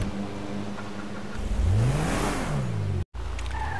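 A Kia Sportage in GTA 5 revs hard and pulls away, its engine note climbing and sweeping through gears over steady game ambience, with a brief dropout near the end.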